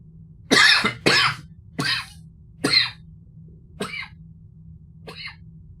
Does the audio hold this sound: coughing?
yes